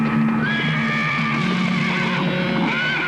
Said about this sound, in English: Patterson's horse reared, throwing him